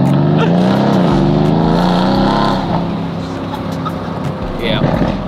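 A twin-turbo Lamborghini Huracan revs loudly and crackles with exhaust pops on a test drive, a dense, roaring engine note that rises and falls, with people talking over it from inside the car.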